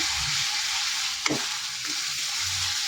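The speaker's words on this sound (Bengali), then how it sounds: "আদা রসুন বাটা দিয়ে খানিকক্ষণ আমি মশলাটাকে কষবো।" Spices fry with ginger garlic paste in a pan for chicken kosha, giving a continuous close hiss and sizzle. One brief stir or scrape sounds partway through, and no one speaks.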